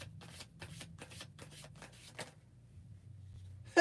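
A deck of tarot cards being shuffled close up, a rapid run of riffling bursts that stops partway through, followed by quiet.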